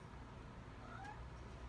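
A house cat gives a single faint, short meow midway through, heard against a low, steady room background.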